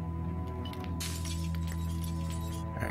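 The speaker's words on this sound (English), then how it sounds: "Remove broken glass." Broken glass being cleared from a window frame in the video game Project Zomboid, heard as a bright crunching, tinkling rattle of shards over a steady low hum of background music.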